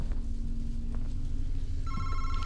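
A telephone rings in the horror video game MADiSON, a bright electronic ring starting partway through over a steady low hum, moderately loud with no speech.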